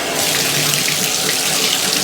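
A newly installed brass tub faucet runs close and loud, its water pouring in a steady, unbroken rush.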